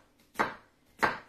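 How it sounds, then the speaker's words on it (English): A knife chops through bell pepper on a board with two crisp, close strikes about half a second apart, each fading quickly. "I don't have to worry about chopping it real little"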